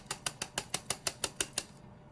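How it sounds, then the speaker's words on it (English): Small parts rattle inside a shaken water bottle in ten quick, evenly spaced bursts, close and fairly quiet, then stopping. "shake the water bottle really good"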